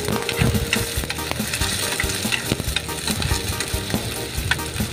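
Garlic and onion sautéing in cooking oil for Kapampangan ginataang kamansi, a busy crackling sizzle with scraping, clattering stirring strokes close by, no talking.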